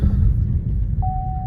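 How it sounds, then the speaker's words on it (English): An old truck engine drives down the road with a steady, loud low rumble throughout, and a thin steady whine joins in over the last half second. "The old truck going."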